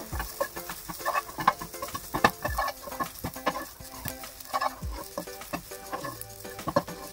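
Dried red chillies sauté on low heat in a pan for fish podimas, a light crackling fry punctuated by frequent irregular spatula knocks and scrapes, close with no speech.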